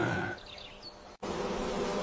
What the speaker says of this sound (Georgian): ბუზი ბევრი ბზუისო